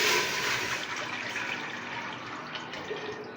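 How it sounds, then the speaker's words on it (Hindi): Water pours from a tap or jug into a cooking pan for sweet zarda rice, a steady, close splashing fill that gradually softens as the pan fills. "ज़र्दा चावल बनाने के लिए सबसे पहले पैन में पानी डालेंगे।"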